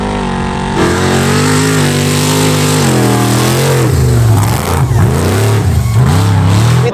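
V8-powered trophy truck Bug with about 660 horsepower on a night rally run, its engine loud and close, revving steadily and climbing in pitch, then dipping and surging again through several throttle blips.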